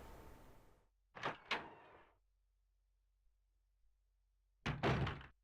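A heavy door opens in the video game Resident Evil Director's Cut: a pair of close thunks with a creaking scrape, then silence and a second loud thud-and-scrape burst near the end. No talk over it.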